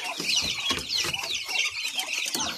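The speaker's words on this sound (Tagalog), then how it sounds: "Ito na rin yung mga alaga nating manok. Rhode Island Red tsaka pato." Rhode Island Red chickens on a small farm cluck repeatedly in an irregular, busy rhythm, fairly close and steady throughout with no talking.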